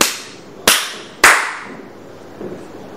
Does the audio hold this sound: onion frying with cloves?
no